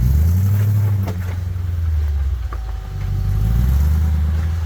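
Jeep engines run on an off-road trail in the Black Hills, a loud, deep, continuous rumble close by that dips briefly and swells again.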